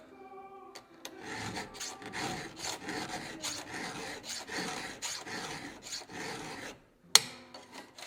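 A round file rasps against a chainsaw chain during sharpening, steady back-and-forth strokes repeating close and clear for several seconds, ending with a brief sharp tap and a few lighter scrapes.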